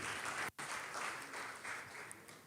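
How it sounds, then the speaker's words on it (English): An audience at a climate innovation event claps steadily in a faint, distant wash of applause, briefly dropping out for a moment before continuing. "A round of applause for her as she joins us up here."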